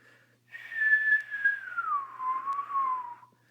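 A high, steady whistled tone imitating a store freezer's whine holds level for about two seconds, then sags into a gentle dip before fading, heard alone and fairly clear.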